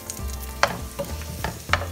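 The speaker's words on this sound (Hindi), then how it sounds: "अभी आलू फ्राई करना है" Potato pieces frying in oil in a pan, a soft continuous sizzle broken by a few sharp stirring clicks and scrapes, close and fairly quiet with no voices.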